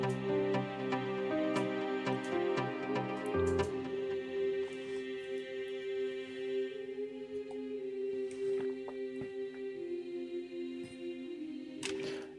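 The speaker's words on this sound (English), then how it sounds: "So I use the choir on this, and it sounds like this." A Kontakt choir sample plays in an Afro house track, sustained layered vocal chords holding steady with a percussive shift partway through, continuing at an even level without talk.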